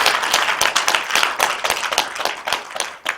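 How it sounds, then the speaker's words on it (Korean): A lecture audience at a concrete industry forum gives a brief burst of applause, dense irregular clapping from a room of listeners, fairly close and steady for a few seconds. "이럴 때 박수도 한번 쳐보시죠."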